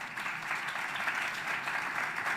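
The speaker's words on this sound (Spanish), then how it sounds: "Un aplauso para él, por favor." Conference audience at an EdTech congress in Barcelona clapping for a speaker, an even, moderately loud wave of applause lasting a couple of seconds without talk.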